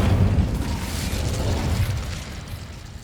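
Incendio fire spell cast in Hogwarts Legacy on PS5, a loud, dense whooshing burst with heavy low rumble that holds steady for about three seconds before easing off slightly.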